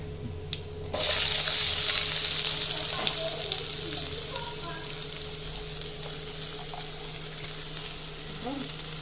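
Onion hitting hot oil in a pan while cooking a Goan anchovy dried-fish thokku, a sudden loud burst of sizzling that settles into a steady close frying hiss with light stirring.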